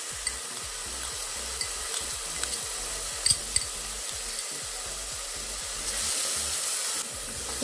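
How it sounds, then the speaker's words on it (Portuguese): Onion and a clove of garlic sautéing in a pan give a steady bright sizzle with rhythmic stirring scrapes, close and alone with no voices. "Vou dar uma refogada na cebola com o alho, um dente de alho."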